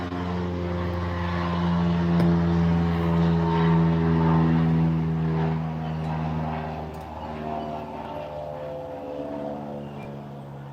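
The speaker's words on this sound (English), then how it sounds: "A flyover." An airplane flies over in a loud, droning propeller hum that swells to a peak and slowly fades, a single pass heard outdoors with no talking over it.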